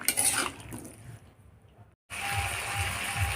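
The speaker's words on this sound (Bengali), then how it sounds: "চিনি দিয়ে একটু নেড়ে চেড়ে দেবো আমরা" Vegetable curry being stirred in a pan after sugar is added, heard as a steady hiss of frying with soft scraping, which drops away briefly before resuming louder.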